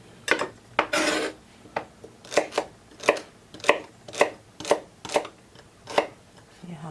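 Stainless steel kitchen knife slicing food into very thin pieces, a series of about ten crisp, evenly spaced cutting strokes against a board, close and clear, with a brief longer scrape near the start.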